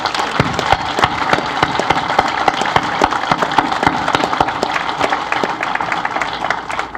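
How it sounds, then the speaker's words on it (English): A round of applause at a National Scouting Museum speaking event honoring a scout troop, steady, moderately loud clapping from a crowd, with distinct individual claps standing out throughout. "let's give them a big round of applause."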